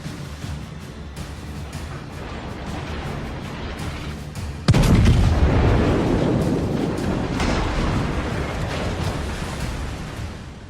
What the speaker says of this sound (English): That was a really good salvo.